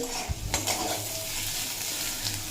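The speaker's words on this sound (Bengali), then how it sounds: "সমস্ত উপকরণ লো টু মিডিয়াম ফ্লেমে রেখে চার থেকে পাঁচ মিনিট মতো ভেজে নিয়েছি" Potatoes and other ingredients frying in a pan on low-medium flame, a soft steady sizzle with a few clinks of a spatula stirring against the pan, no voices.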